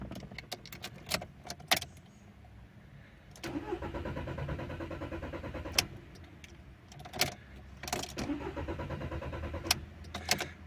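A Skoda Fabia with a suspected failed fuel pump cranks repeatedly without catching, with several bursts of starter whirring separated by short pauses and a few sharp clicks and key rattles, heard close up with no talk.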